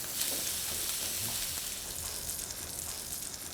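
Salmon fillet sizzles skin side down in a hot pan, a steady, close, crackling fry that runs without pause and with no talking.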